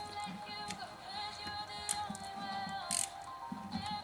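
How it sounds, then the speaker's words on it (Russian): Light metallic clicks and ratcheting from a wrench working the bolts on a Husqvarna 340 chainsaw on the sprocket side, with small irregular ticks close by in a quiet room. "Проверим сейчас, как затянуты болты."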